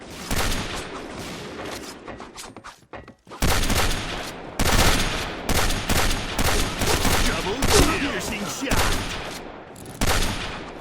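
Rapid bursts of gunfire from the online shooter game Point Blank, loud and close, firing in dense volleys with a brief pause near the start before the shooting resumes in repeated clusters.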